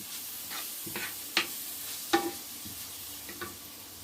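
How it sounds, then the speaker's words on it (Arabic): Onion with a spoonful of tomato paste cooks in a pan for stuffed squid, a soft, fairly faint sizzle with a few distinct stirring clicks and scrapes, alone with no speech. "نتسناو على هاد البصله حتى تطيح لينا مزيان"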